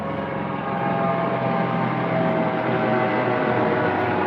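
A steady, loud rotor-and-engine roar fills the whole stretch, a helicopter passing close overhead with no break or voices.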